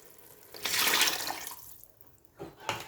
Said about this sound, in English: So now I'll be adding my chicken stock.